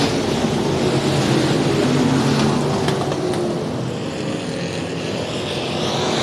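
Dwarf race cars roar around Heart O' Texas Speedway as the green flag restarts the race, a dense, steady engine drone from a full field at close range that holds without a break.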